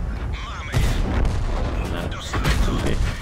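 Tank cannons fire in a tank battle video game on the Tundra map with a TVP 50/51, producing two heavy booms about two seconds apart over a dense, loud rumble of battle noise.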